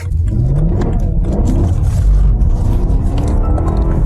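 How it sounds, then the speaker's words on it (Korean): A BMW E92 M3 engine, naturally aspirated, revs and accelerates, its throaty growl rising in pitch as it climbs, loud and close throughout. "엔진 소리 하나만 딱 들어도 느낌이 딱 와요"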